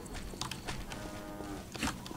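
Cows mooing in Postal 2, a violent first-person video game, as the player attacks them with a hammer, with drawn-out lowing calls repeating over a busy background of game sound and a louder call near the end.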